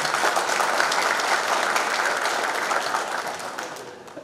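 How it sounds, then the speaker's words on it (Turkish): A crowd at a newspaper's founding anniversary night in Kozan gives a round of applause: loud, thick clapping from many people, steady at first, then tapering off near the end. "Lütfen bir alkış."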